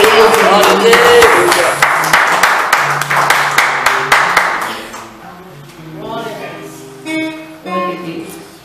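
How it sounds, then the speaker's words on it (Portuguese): A church congregation claps in a fast, regular rhythm along with loud singing and music, then the clapping stops and a voice speaks over softer music. "Palmas que louvem ao Senhor, Jesus."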